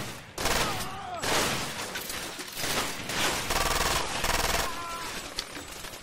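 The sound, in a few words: gunfire from enemies in the video game Far Cry 2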